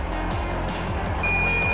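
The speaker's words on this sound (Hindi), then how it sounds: "एक तरफ बीप दे रहा है" A multimeter in continuity mode checks a circuit line where a capacitor was removed and starts a steady high-pitched beep partway through, over a loud constant hum.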